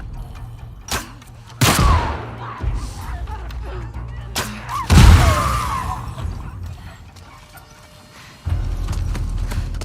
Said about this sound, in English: I love the explosive arrows so much.